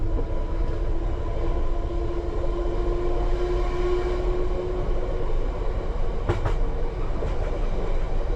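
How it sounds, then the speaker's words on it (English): London Underground train at full speed on a night run, a steady loud rumble with droning motor tone and a few sharp rail clicks near the end, heard from the cab. "So I've just got the train in parallel, that's full speed."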